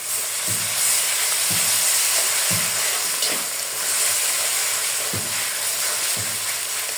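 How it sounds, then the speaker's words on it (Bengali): Ginger garlic paste frying with onions and green chillies in a pan, a steady bright sizzle and hiss punctuated by occasional soft knocks of stirring. "আদা রসুনটা ভালো করে ভেজে নেব"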